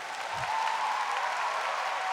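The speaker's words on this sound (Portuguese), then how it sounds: "a quem eu peço uma salva de palmas para esse santo" A church audience applauds in honour of Monsignor Jonas Habib, a soft, even patter of many hands heard from some distance and held steady throughout.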